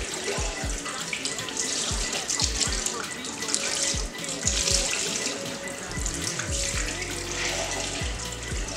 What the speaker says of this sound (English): So this is what I do after running warm water through it.